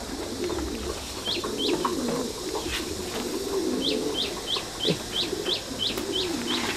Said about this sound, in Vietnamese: Đây là chim bồ câu Titan Thái siêu thịt anh em nhé.